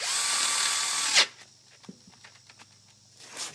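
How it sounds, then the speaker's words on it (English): A power drill whines steadily for about a second drilling into aluminum on a Kohler K321 engine mount, stops abruptly, then small metallic clicks and taps follow, with a brief rustle near the end. "So what we're going to do is we're going to drill these."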